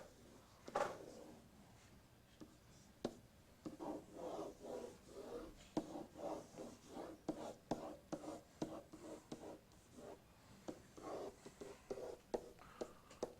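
Marker or chalk sketching a typewriter on a classroom board, giving soft rubbing and scraping strokes in irregular bursts, fairly quiet and close.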